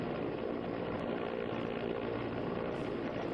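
Indian Air Force rescue helicopter hovering in place while a crewman descends by rope during a cyclone relief operation, its rotor roar steady, loud and broadband with no break throughout.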